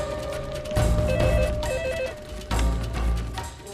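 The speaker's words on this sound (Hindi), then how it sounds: "फोन आ गया।" A telephone rings indoors in two loud electronic bursts with a pause between them, heard alone with no talk.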